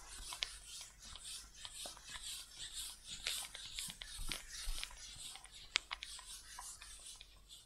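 Eraser rubbed across a classroom board during a grade 9 mathematics lesson, a soft irregular scrubbing with faint squeaks and taps, steady at low volume over about eight seconds.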